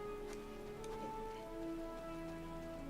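Steady rain patters on surfaces in Final Fantasy XIV, a constant even hiss with soft drips, joined by light tonal game music.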